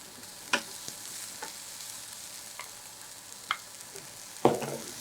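Cabbage is tossed into a pan with a quiet sizzle, punctuated by a few sharp scrapes and taps of stirring.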